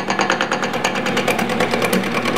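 A skew chisel cuts a spinning wood workpiece on a lathe, giving a continuous close scraping, rasping hiss with a fast rhythmic flutter from the turning wood.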